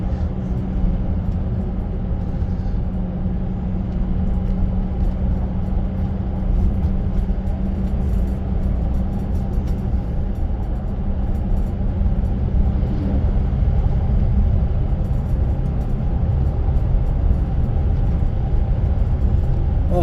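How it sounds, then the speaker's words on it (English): A lorry and a truck pass each other on a road, heard as a continuous low rumble of heavy engines and tire noise, fairly close and steady with no voices. "A lorry going this way and a truck coming that way."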